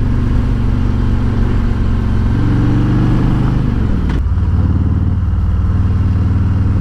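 2019 Harley-Davidson Road King Special with a Rinehart Racing DBX45 slip-on exhaust held in second gear around 3,000 RPM, a loud, steady, deep V-twin drone that shifts pitch midway, with a brief clunk, recorded up close without talk.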